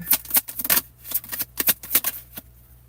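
Tarot cards riffle and slap in a quick, close shuffle, with a run of crisp flicking bursts before a card is drawn, and no talking.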